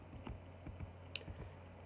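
Quiet keystrokes on a computer keyboard, a handful of soft clicks spaced unevenly over a low steady hum.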